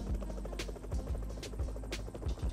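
An evacuation helicopter in PUBG Mobile Metro Royale, its rotor thumping in a steady rhythmic beat with a constant engine hum, loud and continuous throughout.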